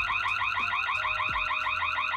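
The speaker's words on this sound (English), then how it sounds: "This camera also has an alarm built into it too." The built-in siren of a Noorio T110 security camera wails loudly and continuously, a fast warbling electronic tone that repeats evenly before cutting off abruptly.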